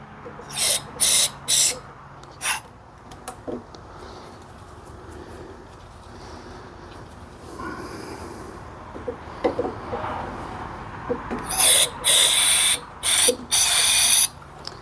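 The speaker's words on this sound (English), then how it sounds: "I'm just going to take some electrical contact cleaner and go inside that housing there." Electrical contact cleaner sprays into the ignition housing of a 46-year-old vintage lawnmower in a few short, sharp aerosol bursts that come near and loud, set against quiet, faintly rustling workshop background.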